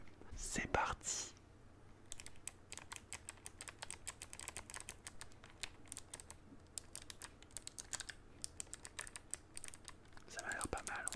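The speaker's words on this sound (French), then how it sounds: "On va vous faire des petits sons de clavier." Soft, close ASMR tapping on a computer keyboard, quick irregular clicks in bursts with brief whispered speech at the start and end.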